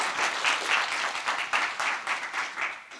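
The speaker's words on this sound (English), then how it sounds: "Let's give him an applause" Audience applause after a conference panel talk, a dense steady wash of many hands clapping with rhythmic swells, fairly loud and close, lasting throughout with no voices on top.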